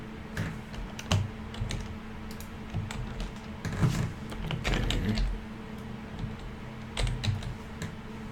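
Typing on a computer keyboard, with irregular bursts of close, crisp key clicks and short pauses between them, no talking.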